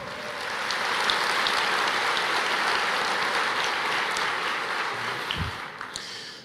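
A church congregation applauds together in a dense, sustained wash of clapping that holds steady for several seconds before tapering slightly toward the end, with a brief low thump near the close.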